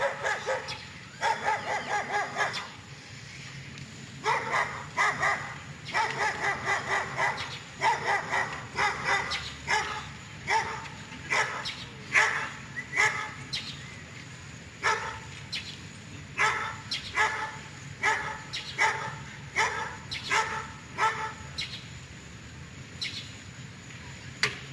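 A dog barks repeatedly in short bursts during a lecture on the Bhagavad Gita at the University of Florida, the barking fairly distant and persistent over quiet room tone, with faint bird chirps mixed in.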